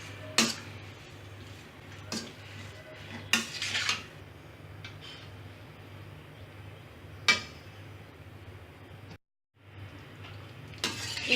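Mutton pieces with ginger-garlic paste and turmeric being stirred in a pan, with a spoon scraping and clinking against the metal several times over a steady low hum, nearby and fairly quiet.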